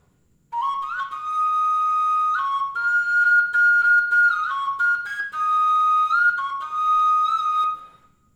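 A Javanese suling bamboo flute plays a slendro cengkok phrase, a breathy, sustained melody with small pitch slides and ornaments, close and clear with no other instruments or talk.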